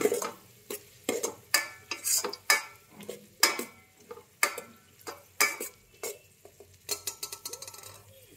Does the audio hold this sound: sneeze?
no